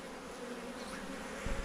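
A swarm of docile bees hums in a dense, continuous drone, close and steady, with a low bump of handling near the end.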